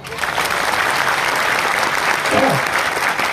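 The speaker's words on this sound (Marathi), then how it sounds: "एकदा तुम्ही जोरदार टाळ्या बाबासाहेबांसाठी" A crowd at a Buddhist conference gives a loud, sustained round of applause, dense even clapping throughout with a brief voice breaking through near the end.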